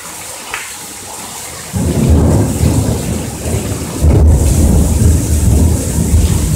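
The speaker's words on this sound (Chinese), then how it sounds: "打雷" Deep rolling thunder booms through a heavy rainstorm, growing loud and close after a quieter stretch of steady rain, with a second stronger surge of rumbling near the end; no one speaks.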